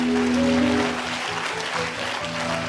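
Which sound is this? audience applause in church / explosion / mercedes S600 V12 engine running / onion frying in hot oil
audience applause in church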